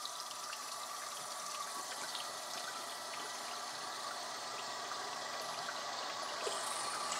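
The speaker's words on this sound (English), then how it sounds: "and you can back flush it the other way" Water rushing through a home emergency membrane water filter as it is back flushed, a steady hissing, gushing flow at moderate level that continues without a break, with no voices.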